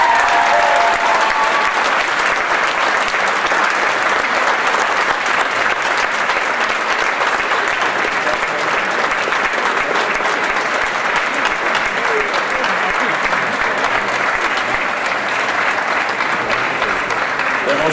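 An audience at a bachelor's graduation ceremony applauds in a sustained, dense wash of clapping that stays loud and even for about eighteen seconds, with no voices standing out.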